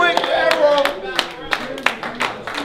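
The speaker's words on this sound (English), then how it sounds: "You get a clap, y'all clap it up real quick." A small crowd claps at a Halloween rap battle, with a handful of sharp, uneven hand claps standing out against a room-tone background and a voice speaking over them.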